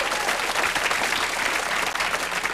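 Studio audience at a television talk show breaks into dense, sustained applause, many hands clapping loudly and evenly throughout.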